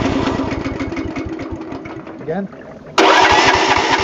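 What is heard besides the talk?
stump grinder engine starting on wood gas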